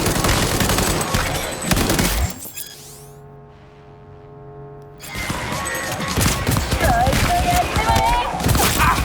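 Heavy gunfire in Cyberpunk 2077, dense loud volleys that drop away into a brief low humming lull before the shooting resumes at full intensity, with a voice shouting over it.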